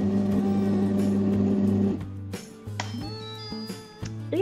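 A kitchen food processor runs at speed 2 and then speed 3, blending frozen fruit into a light homemade ice cream. The motor gives a steady loud hum that cuts off and restarts in short bursts, with clinks in between.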